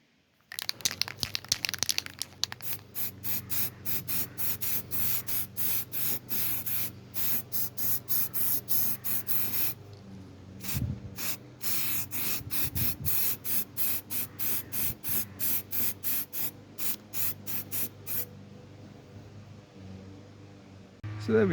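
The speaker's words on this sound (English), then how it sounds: "Get some weld through primer on there now" Weld-through primer sprayed from an aerosol can onto an Opel Manta body panel outdoors, a long series of short, sharp, rhythmic hissing bursts close by over steady wind noise.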